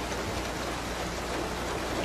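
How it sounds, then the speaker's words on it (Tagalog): Rain falls steadily in a dense, even hiss of drops striking surfaces, close and continuous with no voices over it. "Pabilog po, palalaki kasi ang patak ng ulan ngayon."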